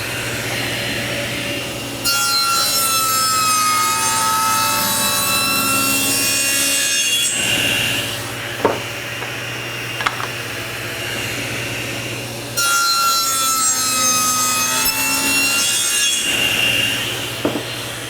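A table saw blade cutting wood, the workpiece guided by a basic miter gauge, with a steady whine and a rasping cut that starts, runs, stops, then repeats for a second pass.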